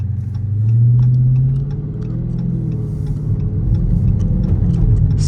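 A 2023 Dodge Charger Scat Pack with its ZF 8-speed gearbox cruising under light throttle, a loud, deep V8 rumble swelling briefly then settling into a steady cabin drone, with faint ticking above it.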